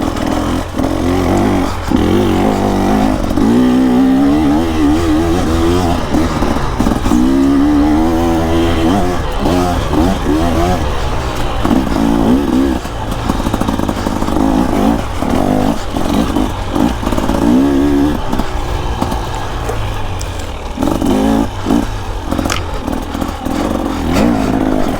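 A 2024 KTM 300 EXC two-stroke dirt bike being ridden off-road, its engine revving and bogging continuously at close range throughout, with rising and falling pitch, clattering and no talk.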